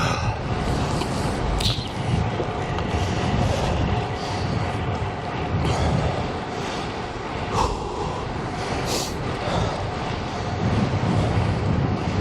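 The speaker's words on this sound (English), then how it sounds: "this is a pretty good headwind" Strong headwind buffeting the microphone while cycling in Albuquerque, a continuous loud rushing roar with gusty swells throughout.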